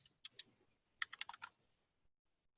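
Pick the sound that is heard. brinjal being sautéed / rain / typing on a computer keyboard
typing on a computer keyboard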